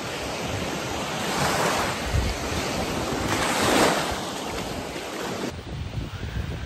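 Ocean waves roll onto the beach at Destin, Florida in a steady, broad wash that swells and fades, with gusty wind buffeting the microphone and no voices.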